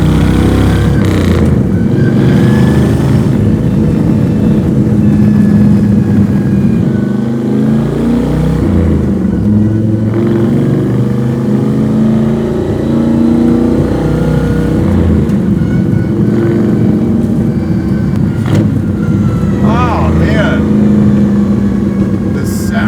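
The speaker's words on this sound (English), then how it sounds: "Engine and exhaust is so good." A 1951 Ford Coupe built as a 1950s-style race car, its engine and exhaust rumbling loud and close with steady, deep throb and rising revs throughout, while people talk in the background.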